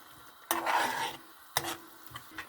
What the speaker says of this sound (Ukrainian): ось уже почало булькати, додаю першу моркву